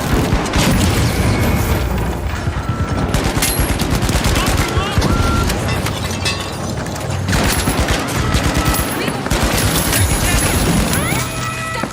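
Frantic combat in the video game The Finals, with a frag grenade blast amid constant rapid gunfire and repeated booms, loud and dense throughout, with voices faintly under the shooting.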